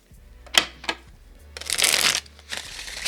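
A deck of tarot cards being shuffled up close: a few sharp riffles and snaps, then a longer burst of rapid fluttering card noise and another shorter flurry.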